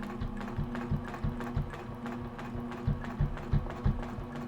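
A sewing machine stitches slowly in the ditch on a log cabin quilt, giving a steady rhythmic thump and clatter of evenly spaced needle strokes, close and alone.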